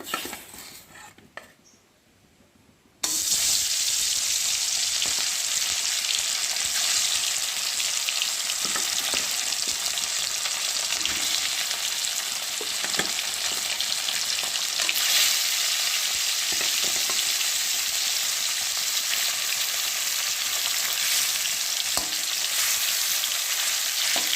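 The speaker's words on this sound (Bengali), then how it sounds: "আমি এখন মাছগুলো একা একে দিয়ে ভাজবো" Fish pieces frying in oil in a pan give off a loud, continuous crackling sizzle that bursts in after a few quiet seconds. Occasional clicks of a utensil sound over it, close up.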